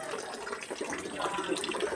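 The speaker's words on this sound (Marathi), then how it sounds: "इथं बघू शकता पूर्ण पाणी वगैरे वाहत आहे" Steady rushing of flowing water near a temple, a continuous wash of sound with no voices.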